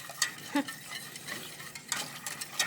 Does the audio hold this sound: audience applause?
no